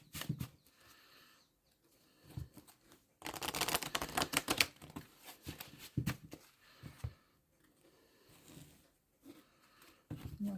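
Tarot cards being shuffled by hand, soft riffling and flicking bursts with pauses, close but quiet.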